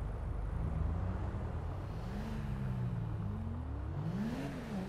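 A car in GTA V accelerates through the gears, its engine note rising and falling in steady revving sweeps, moderately loud and continuous under a soft background hiss, with no talk.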